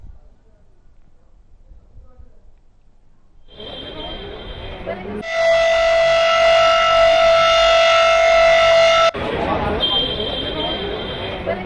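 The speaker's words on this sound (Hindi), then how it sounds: "आईटीओ के पास पीडब्ल्यूडी बिल्डिंग में सायरन बजवाया गया है।" Civil defense air-raid siren sounded at the PWD building near ITO in Delhi, a loud wailing tone that swells in after a quiet start, holds strongly for several seconds, then drops slightly, with faint background noise.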